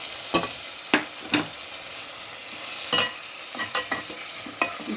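Tomatoes for chicken kulambu fry with a soft sizzle in a pan, broken by a few sharp spoon scrapes and knocks at irregular intervals, close by and without voices.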